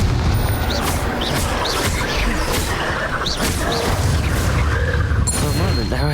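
Confringo explosion spell in combat in the video game Hogwarts Legacy, a busy battle of booming blasts, crashes and whooshing magical bursts, loud and continuous, with a voice speaking briefly amid the noise.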